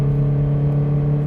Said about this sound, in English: there's an exhaust on here as well. Things have gotten, well, definitely louder.